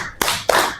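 A classroom of students claps in unison, three sharp group claps in quick succession, close and loud, with no talking over them.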